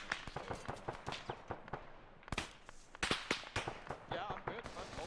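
Rapid SMG bursts and sharp single shots crack close by in an Arma 3 firefight, irregular volleys stacked over one another with busy battlefield noise throughout.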